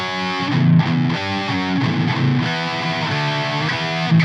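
Heavily distorted electric guitar from a Leo Jaymz Double Cut, sustained chords and shifting notes ringing out loud and close with a saturated, buzzing tone.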